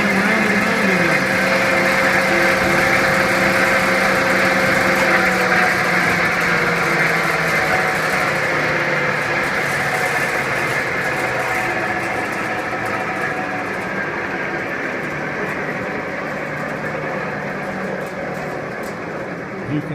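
A Garb-el GHV-1000 industrial garbage disposal machine running, heard as a loud, steady mechanical roar and hum that stays constant and eases slightly toward the end.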